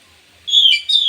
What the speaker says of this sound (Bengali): পাশের বাড়ি টিয়া পাখি